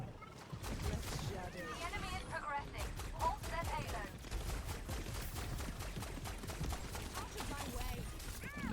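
Rapid bursts of gunfire from the Overwatch video game, with Jetpack Cat gameplay, crackle steadily throughout under near-constant voice chatter and game effects.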